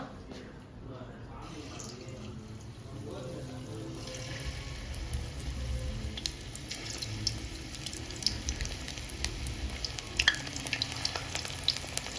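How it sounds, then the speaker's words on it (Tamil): Mushroom kebab pieces fry in hot oil, a steady broadband crackle and hiss that grows denser after the first few seconds, with occasional sharper pops near the end. "எல்லாம் மஷ்ரூமு எண்ணெய் காஞ்சிருக்குதுன்னு பார்த்து, எண்ணெய் காஞ்சிருக்குது, ஒன்றா போட்டோமா."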